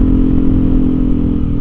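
A Yamaha NMAX 155 scooter fitted with a TZM racing exhaust with a 50 mm inlet runs loud and close, a steady throbbing engine drone with a rough rattly edge.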